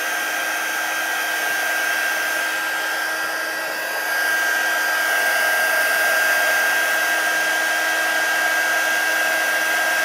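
An embossing heat tool blows steadily and loudly to melt embossing powder, a constant whooshing drone with a slight dip near four seconds, heard alone without any talking.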